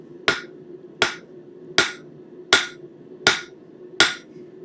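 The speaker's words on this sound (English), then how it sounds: "We start by angling the piece up off of the face of the anvil and hammering with" A hammer strikes hot iron on a blacksmith's anvil with angled glancing blows: six loud, ringing, evenly spaced hits about three-quarters of a second apart, with no talk.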